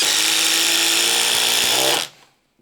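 Ridgid 4-mode impact driver sinking a 3 1/8 inch GRK screw, a loud continuous high-pitched whirring hammer buzz for about two seconds that stops abruptly, leaving a brief fading tail.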